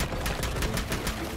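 Rapid automatic gunfire from a video game, aimed at enemy bases, rattles out in a steady run of about a dozen evenly spaced shots, loud and close, with no talking.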